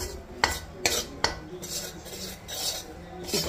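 Spices roasting in ghee in a pan, stirred with a metal spoon: three sharp clinks against the pan, then softer scraping strokes over a low sizzle.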